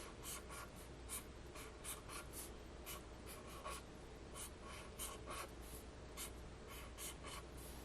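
A pen scratches across paper while drawing squares, a quiet run of quick, repeated strokes with short pauses, close and alone.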